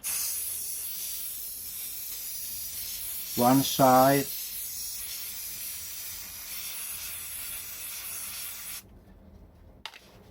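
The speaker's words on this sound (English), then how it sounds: "and then nicely spraying like this" A steady aerosol hiss of a spray paint can sprays continuously, briefly interrupted by a short spoken phrase, then cuts off abruptly near the end.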